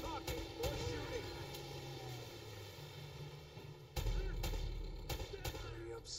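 Gunfire in the video game Uncharted: Drake's Fortune Remastered, a stream of quick cracking shots in bursts over a busy game soundscape, with a heavier low boom hitting about two-thirds through and shots continuing after.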